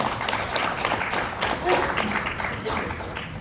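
Guests at an ESG award ceremony, part of SR Times' 10th anniversary ESG forum, applaud a winning company, a close, busy stretch of clapping with voices mixed in.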